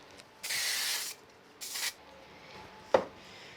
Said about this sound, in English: I'm just going to add that with another bit of spray glue